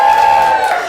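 A live science burlesque audience shouts and cheers together in a brief, loud burst of crowd noise.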